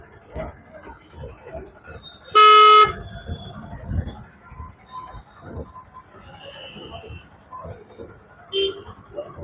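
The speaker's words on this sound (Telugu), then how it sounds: "ట్రాఫిక్ అయితే విపరీతంగా ఉంది" Congested city traffic near a shopping mall in Nizamabad, with one loud car horn blast standing out over a steady rumble of engines and people talking throughout.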